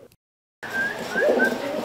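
Pigeons coo softly and steadily at close range after a moment of silence, their low murmuring calls repeating over a faint background hiss.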